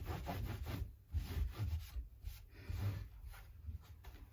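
A cloth wipes dust off the wooden body of an Epiphone Matt Heavy 7 guitar, soft quiet rubbing strokes repeating in uneven bursts.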